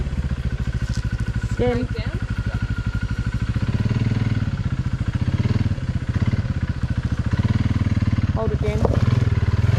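Motorbike engines ridden by kids, a steady close putter and drone running throughout with revving swells, while a person speaks briefly over it.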